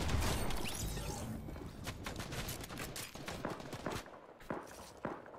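Rapid Fortnite gunfire, dense and continuous at first and then breaking into separate sharp shots toward the end, moderately loud with a busy mix of game sounds.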